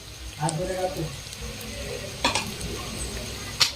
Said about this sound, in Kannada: ನೂಡಲ್ಸ್ ಪೂರ್ತಿ ಹಾಕೊಂಡು ಈ ತರ ಪೂರ್ತಿ ಮಿಕ್ಸ್ ಮಾಡ್ಕೊಳ್ಳೋಣ್ರಿ ವೆಜಿಟೇಬಲ್ಸ್ ಜೊತೆ